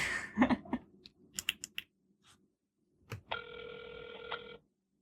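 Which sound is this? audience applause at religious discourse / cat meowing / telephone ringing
telephone ringing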